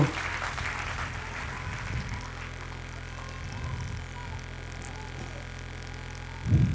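Church congregation clapping loudly for the Lord during a French-language sermon, an ongoing patter of hands under a low hum, with a few soft thumps and a louder burst near the end.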